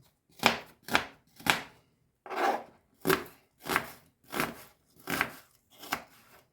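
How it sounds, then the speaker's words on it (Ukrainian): A knife chops onions on a board in nine distinct, evenly paced strokes, each a crisp crunchy slice, close and clear with no talking. "Дві цибулинки наріжу на любі шматочки."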